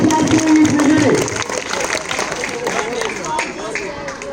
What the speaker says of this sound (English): Please give us a hand of applause to each winner